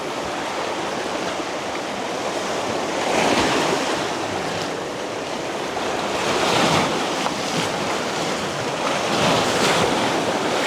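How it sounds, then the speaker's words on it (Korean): Sea waves roll over round pebbles on the East Sea shore at Pohang, a loud continuous wash with surges that swell every few seconds, mixed with wind buffeting the microphone. "들리세요 몽돌 소리"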